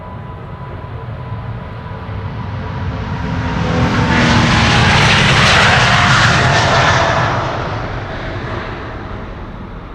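An airBaltic airliner in Austrian flag livery departs Amsterdam Schiphol, its jet roar swelling to a loud peak mid-clip as it passes close, then fading steadily.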